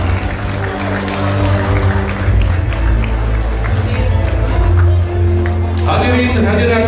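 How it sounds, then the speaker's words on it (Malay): A crowd at a political rally in Sabah claps and cheers loudly and continuously, with shouts mixed in, before the sound shifts near the end. "berikan tepukan kepada kita semua"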